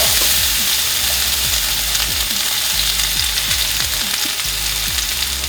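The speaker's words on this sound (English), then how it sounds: "And I'm gonna go ahead and add some onion." Chopped onion hits a hot pan for braised potatoes, setting off a loud, steady, broad sizzle with faint scraping and stirring throughout.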